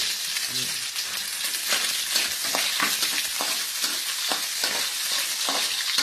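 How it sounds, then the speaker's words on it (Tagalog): Garlic and chili sautéing in a pan, a continuous bright crackling sizzle with intermittent scraping and stirring strokes, close and steady with no speech. "mag-gigisa natin ng bawang at sili"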